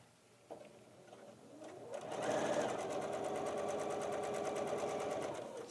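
Near a quiet sewing room, a sewing machine starts up and stitches bias binding in a fast, even, rapid mechanical patter that continues steadily after a soft click and brief lead-in.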